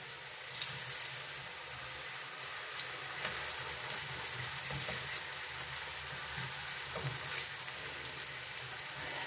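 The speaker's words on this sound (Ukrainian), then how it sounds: "викладаємо картоплю на великому огні обсмажуємо з обох сторін" Potatoes frying in a hot pan over high heat, giving a continuous crackling sizzle with scattered pops and soft stirring scrapes, close and steady throughout.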